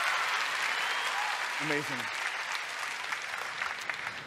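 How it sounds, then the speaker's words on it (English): Audience applause at a televised singing competition battle round, a steady wash of clapping throughout with a brief spoken word over it. "Can we just give him another big round of applause?"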